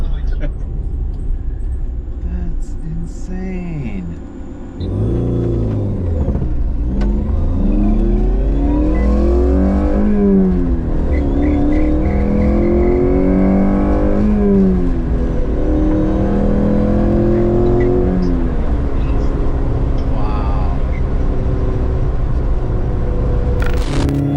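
Electric-converted Toyota AE86 driving with heel-and-toe rev matching, its motor rising and falling in repeated swells through gear changes, loud and close from inside the cabin, with people talking over it throughout.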